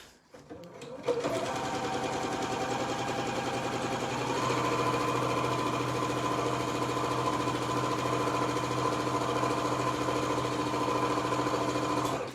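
A sewing machine runs a long straight stitch on fabric for a gathered cushion, starting up after a brief pause and then humming and chattering steadily and loudly at an even pace to the end.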